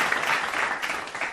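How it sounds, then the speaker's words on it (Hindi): A brief burst of audience applause at a Hindi stand-up comedy show, dense steady clapping from a crowd, heard alone. "एक बार जोरदार तालियां बजा करके हौसला बढ़ा दीजिए"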